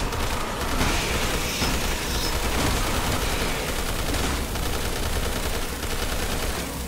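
Rapid gunfire from Resident Evil 6 fills the scene as a dense, continuous barrage of shots and blasts, loud and steady throughout with no pauses and no talking.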